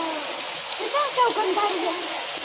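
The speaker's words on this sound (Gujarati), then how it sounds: "કંધીડો પડે છે ને પાણીનો" Rainwater pours down steadily in a monsoon downpour in Jamnagar, a constant rushing wash with people talking over it.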